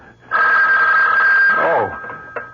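A telephone bell rings loudly in one sustained burst, then cuts off, followed by a brief softer sound.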